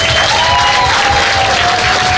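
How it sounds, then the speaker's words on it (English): Dense, loud crowd applause at the grand opening ceremony of a new Miramar police headquarters, a continuous wash of clapping throughout, with a faint tone sustained beneath it. "another big round of applause for that"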